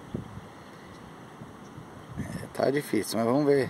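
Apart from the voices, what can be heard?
strong wind over lagoon while kayak fishing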